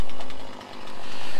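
A chainsaw runs loud and close with a steady, rough buzz that dips briefly mid-burst and then climbs back to full throttle, with no voices.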